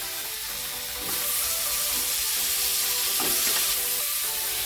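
Garlic and onion fry in butter in a pan over low heat, giving a steady sizzle that swells louder after a quiet start and carries on evenly, with no talking.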